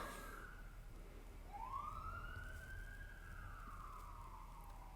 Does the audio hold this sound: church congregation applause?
no